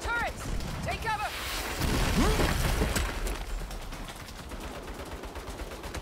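Turret gunfire rattles through a Saints Row firefight in rapid bursts, with clanking mechanisms and booming hits, while voices shout over the noise.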